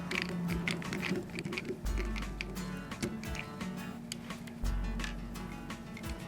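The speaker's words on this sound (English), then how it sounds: "So I'm just going to unscrew the end cap here." End cap being unscrewed from a Makita power tool during a brush replacement: close, rapid ticking and clicking in irregular bursts with low scraping rumbles, no talking.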